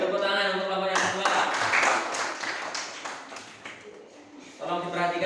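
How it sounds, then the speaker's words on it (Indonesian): Classroom clapping for a second student group, a broad burst of many hands running for several seconds with voices mixed in and fading toward the end. "Beri tepuk tangan untuk kelompok yang kedua."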